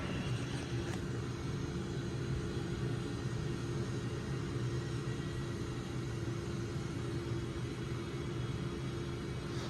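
A simulated A-10C jet engine in DCS World, heard from a home sim-pit during a cold start, gives off a steady, low, rumbling drone at a quiet level, unchanging and with no one talking.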